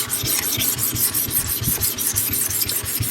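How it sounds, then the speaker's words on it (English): A Japanese natural whetstone is lapped flat with rhythmic back-and-forth scraping strokes, close and fairly loud, each pass a gritty rasp repeating steadily without speech. "what I'm going to do is I'm going to lap down a little bit more on this"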